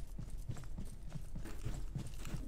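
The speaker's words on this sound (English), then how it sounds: "I heard footsteps." Steady, evenly paced footsteps in the Roblox horror game Asylum, a run of muffled, fairly close footfalls over a low background hum.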